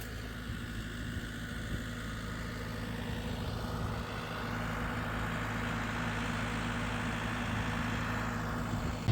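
A tractor engine runs steadily, heard from inside the cab as a low, constant idling drone with an even hum throughout and no talk.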